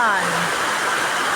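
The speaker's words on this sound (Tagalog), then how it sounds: "sobrang lakas ng ulan" Heavy, relentless rain pours down in a dense, steady roar that continues without a break, loud and close. A brief low tone fades out near the start.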